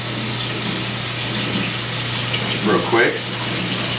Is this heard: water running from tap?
yes